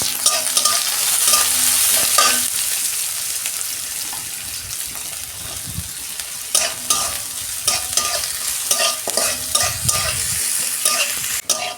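Onion and green chilies fry in hot oil with cumin seeds in a kadai, a steady bright sizzle broken by repeated scraping stirs of a spatula against the pan, close and fairly loud.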